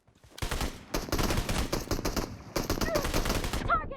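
Rapid automatic gunfire in PUBG Mobile, loud bursts of close shots filling most of the stretch with a short gap, ending in sharper, more distant cracks.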